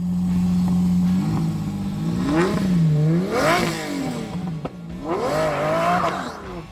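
A Lamborghini Countach V12 engine idles, then revs repeatedly, its pitch climbing and falling in several loud close bursts toward a high scream near its 7,500 RPM redline.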